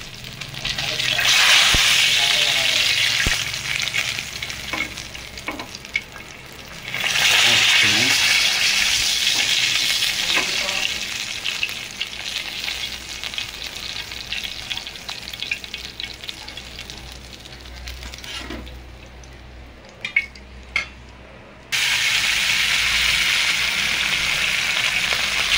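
Fish frying in a pan of hot oil in a village kitchen, a loud continuous sizzle with stirring and scraping, briefly quieting and then resuming strongly, with faint background voices.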